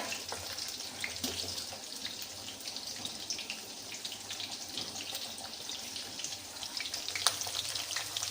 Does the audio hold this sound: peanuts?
yes